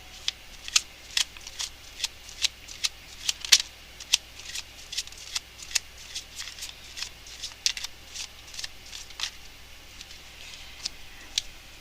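Tarot cards being shuffled by hand, a brisk series of sharp crisp riffs and slaps repeating close to the microphone, alone without talking.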